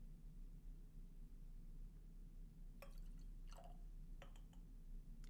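Sodium thiosulfate solution is poured into a glass flask in a school lab, a few brief splashy trickles and drips midway through, faint against a steady background hiss.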